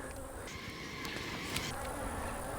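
Honey bees buzz around the top of an opened nucleus hive, a continuous, fairly faint drone with no break.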